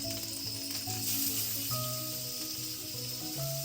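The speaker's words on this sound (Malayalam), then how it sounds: "നമുക്ക് തേങ്ങ വറുത്തെടുക്കാം" A steady, close frying sizzle hisses continuously as grated coconut fries in coconut oil in a pan, with light music playing underneath.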